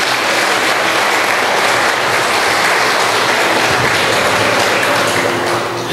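A church congregation applauds during a sermon, a loud, dense and steady wash of clapping that fills the whole stretch without pause.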